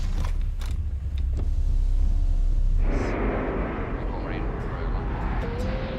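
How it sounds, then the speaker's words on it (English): A car's power window motor hums steadily as the glass lowers, starting partway through with a rising whine over the low rumble of the car's interior, with no talk. "Bring your window down."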